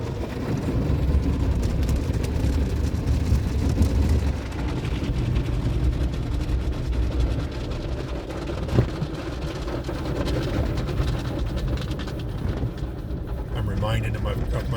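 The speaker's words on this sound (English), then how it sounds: "you're just going to hear the noise of the car wash, and you'll hear less of my voice." An automatic car wash runs while a car drives through it, giving a steady, dense roar and whoosh of spraying water and brushes heard from inside the vehicle for the whole stretch, with faint talk underneath.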